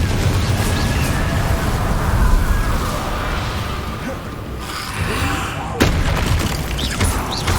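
Confringo blasting spell explosions in Hogwarts Legacy, loud, dense booms and crackling bursts layered over one another, with a brief lull before another sharp blast.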